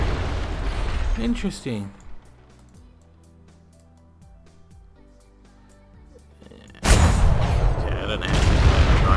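Ship cannons fire in the game Atlas, heavy booming blasts up front, then a quieter stretch with a short spoken remark, followed by a sudden loud rumbling barrage that continues to the end.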